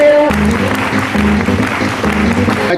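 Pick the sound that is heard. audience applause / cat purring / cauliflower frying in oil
audience applause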